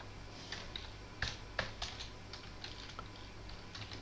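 Someone types a database name on a computer keyboard, a quiet run of soft, irregular key clicks with a couple of sharper taps, heard close over a steady low hum.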